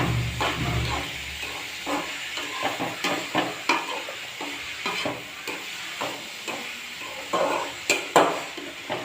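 Beetroot and curry leaves sautéing in a pan for poriyal, stirred with repeated rhythmic scrapes and clinks over a soft sizzle, close and alone.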